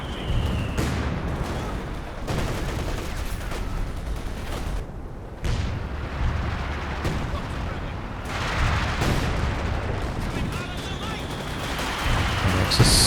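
Mortar pits and gunfire in a large Company of Heroes 2 battle, with repeated booming impacts and crackling gunshots over a busy, continuous background of combat noise.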